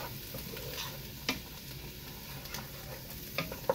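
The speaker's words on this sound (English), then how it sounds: "these are sizzling" Gentle, steady sizzling of Swedish meatballs in a frying pan, with a few soft clicks and taps as they are moved around.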